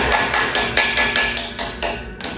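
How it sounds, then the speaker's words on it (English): A small hammer taps repeatedly on a metal part of a VW T4 tray, about eight sharp, fairly loud strikes in quick, slightly uneven succession, close up and with no voices. "give that a little lovey tap with my little tappy hammer"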